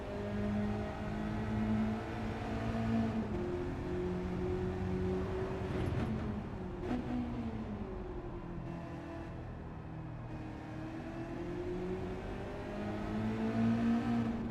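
Race car engines in a Mazda Cup racing video game, a continuous loud whine that climbs and falls through gear changes, revving up and easing off close by with no talk.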